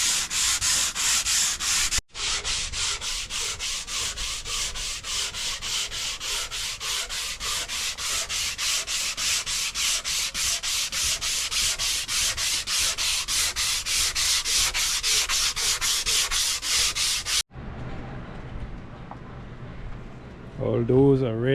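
Steady, continuous rasping of 150-grit sandpaper worked over a boat's fighting chair to remove scratches and scraper marks, close and loud with a brief pause early on, then stopping abruptly.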